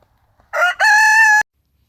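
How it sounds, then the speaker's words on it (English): A single farm rooster crows loudly and close by, a short rising note followed by a sustained drawn-out call, with silence on either side. "all the five roosters"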